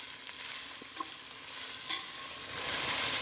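Sprouted moong bean gravy frying in a pan, a steady close sizzle and crackle with a few light stirring scrapes, building slightly louder toward the end.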